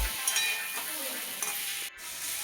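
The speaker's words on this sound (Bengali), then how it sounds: "আবারও সব কিছু ভালো করে মিশিয়ে নিচ্ছে" Fried potato and potol pieces with turmeric are stirred in a pan, giving a soft continuous hiss of frying with faint scraping strokes. It is close and quiet and no one speaks.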